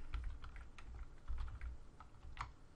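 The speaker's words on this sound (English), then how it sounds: "Punch in our password." A password is typed on a computer keyboard in a run of quick, light key clicks with an uneven rhythm, close up and quiet, with no talking.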